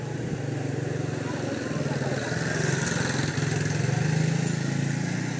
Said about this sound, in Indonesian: ada motor sedang lewat